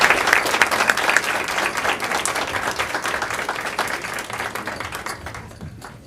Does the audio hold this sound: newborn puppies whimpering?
no